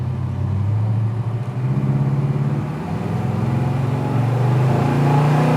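A 1964 Ford Galaxie 500 engine idles with a steady low rumble, then revs up and down in a few surges, loud and close throughout.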